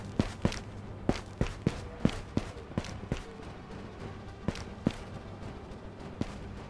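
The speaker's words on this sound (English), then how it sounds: "These are footsteps. Sounds like a set of two." Another player's footsteps in the game Ghost of Tabor, a string of faint, evenly spaced thuds across the whole stretch, with no talk.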